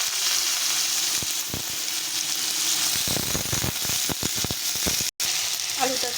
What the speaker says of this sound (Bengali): এখন আমি প্রথমে আলুগুলো ভেজে নেব।